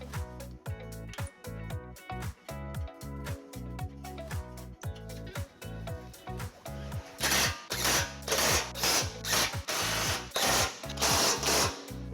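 A power tool torques the factory bumper bolts on a 2011-2019 Subaru Outback during a trailer hitch install, loud rapid impact rattling in short repeated bursts, growing harsher partway through, with no voices.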